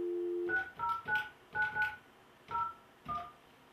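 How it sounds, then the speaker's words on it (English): Touch-tone keypad on an office desk phone dialing a number during a call transfer: a series of about seven short DTMF beeps in uneven rhythm, near and clear, with no talking. "I hit transfer and then I dial the number."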